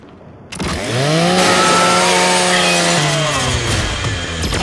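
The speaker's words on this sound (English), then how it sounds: "Just use your Lancer's chainsaw." A Lancer rifle's chainsaw bayonet tears into a custodial robot in Gears 5, a loud, sustained grinding whine that starts abruptly and holds steady for several seconds with a slight pitch shift partway through.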